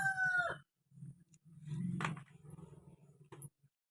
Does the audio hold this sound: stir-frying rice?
no